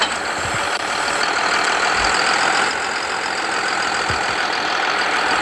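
A tractor engine in the Farming Simulator 23 video game drones loudly and steadily, a constant idling rumble with a few faint knocks and no speech.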